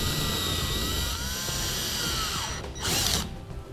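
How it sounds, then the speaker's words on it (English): A high-pitched power drill whines steadily while drilling holes in a 2015 Chevrolet Silverado truck bed, its motor pitch wavering, then spins up louder near the end. "we can go ahead and start marking and drilling our holes for our bed protectors"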